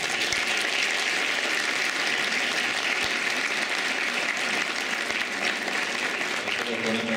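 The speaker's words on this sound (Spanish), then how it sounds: "Un aplauso a la profesora Sonia Escafo." A conference audience gives a professor a steady round of applause, with dense clapping mixed with crowd murmur that holds at an even level without pause.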